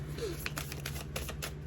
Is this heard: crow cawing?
no